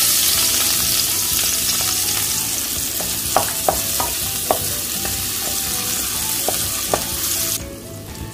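Garlic fries in hot oil at low heat with a steady close sizzle, broken by several sharp utensil taps against the pan before the sizzle cuts off near the end.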